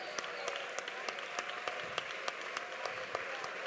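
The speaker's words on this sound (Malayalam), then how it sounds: "കൈയടിച്ച് ഉറക്കെ സ്തോത്രം ചെയ്താട്ടെ" A church congregation claps and praises together, with rhythmic, evenly spaced hand claps at a moderate distance over a low murmur of voices.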